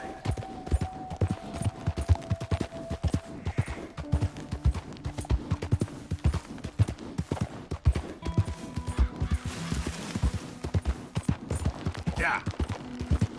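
Horse hooves clip-clop in a steady walking rhythm in Red Dead Redemption 2, moderately close, with a few faint voice-like tones in the background.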